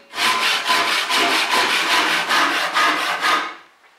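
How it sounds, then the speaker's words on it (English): A Japanese hand saw cuts through wood with a steady series of about a dozen rasping strokes, loud and close, stopping abruptly near the end. "Gravity working on the saw and the weight of my arm brings it through the cut."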